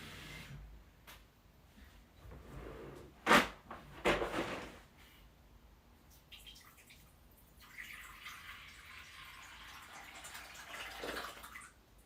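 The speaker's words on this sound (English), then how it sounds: "I need to refill their water." Water is poured into a tortoise enclosure's drinking bowl, a steady filling rush with a few bumps and knocks before it, heard alone at close range.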